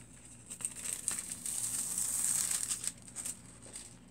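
Foil sheet peeled off a card after a press-and-foil machine run, a soft close crinkling and crackling rustle that builds steadily and fades near the end, with no voices.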